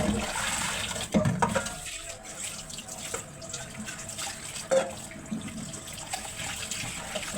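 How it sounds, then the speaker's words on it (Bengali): Tap water runs steadily as fish are washed under it, with a few louder splashes and handling bumps over a continuous watery rush, close and moderately loud. "খাওয়ার আগে একটু ভালো করে মাছটা ধুয়ে নেই"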